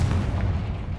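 A Confringo blasting spell in Hogwarts Legacy sets off a deep, booming explosion whose low rumble fades over about a second.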